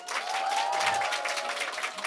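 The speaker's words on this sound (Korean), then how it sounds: "이렇게 막 계속 박수가 나오는 건가요?" Lecture audience applauding a speaker, a brief burst of steady, fairly distant clapping with no talk over it.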